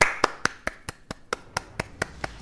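Hands clap in a steady rhythm, about a dozen sharp, fairly close claps at an even pace, with no voices.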